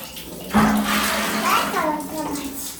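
Tap water runs steadily at home for a bath, a continuous close rush of pouring water with a voice speaking over it.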